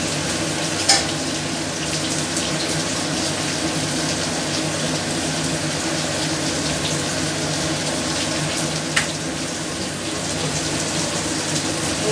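Asafoetida sizzling in hot oil while making Andhra pepper rasam, a steady close crackling hiss throughout with a couple of sharp clicks.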